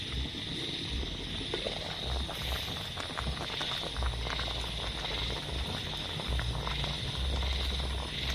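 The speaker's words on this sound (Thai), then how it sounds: "เดือดแล้วนะครับ เดี๋ยวไปดูหัวมันนะครับว่าใกล้สุกหรือยังนะครับ" A pot of water with cassava tubers boils steadily, giving a continuous bubbling and hissing roil that stays even throughout with no talk.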